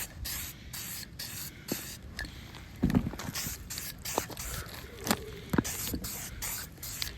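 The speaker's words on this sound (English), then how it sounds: "Now we're gonna throw some spray paint on there, clean it up." Quiet hissing bursts from a spray can, several short sprays in an uneven rhythm with small knocks and scrapes between them.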